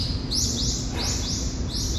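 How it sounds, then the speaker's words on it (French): Bird calling outdoors in Okinawa, repeated bright rising chirps in quick succession at fairly close range, set against a dense steady bed of insect-like buzzing and ambient noise. "C'est un oiseau."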